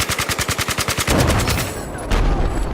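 Machine gun fire in the video game Battlefield 4: a loud, rapid burst of evenly spaced shots for about a second, then a sustained roaring rumble of gunfire and explosions.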